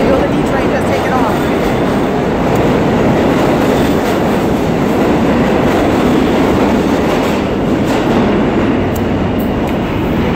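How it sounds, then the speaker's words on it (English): A New York City subway D train pulls out of the station, its wheels and cars producing a loud, continuous rumble and clatter close by that holds steady throughout, with faint talk mixed underneath. "the D train just taking off"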